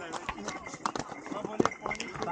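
Horses carrying pilgrims along the snowy Amarnath Yatra mountain route from Pahalgam, hooves clip-clopping in an irregular patter close by, mixed with voices talking over the busy trail.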